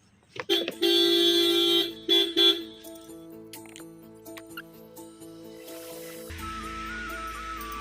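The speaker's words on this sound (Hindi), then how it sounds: "हॉर्न मारो ना।" A car horn honks close by, two sustained blasts with a short gap between them, followed by a few quieter tones and light background bustle.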